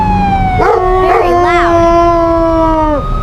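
A dog howls loudly and steadily over a wailing fire truck siren, the long drawn-out cry holding close and strong.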